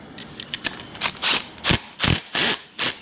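A torque tool ratchets while turning a terminal screw on a Hubbell NEMA 14-50 outlet until the screw strips. Sharp mechanical clicks and short grinding bursts repeat in an uneven rhythm at close range, with no talking.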